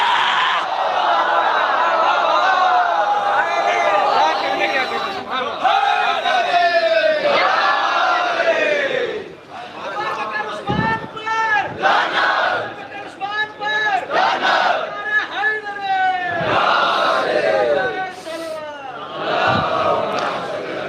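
At a chehlum religious gathering, a large crowd loudly shouts a slogan in unison, answering a leading voice in repeated rhythmic bursts.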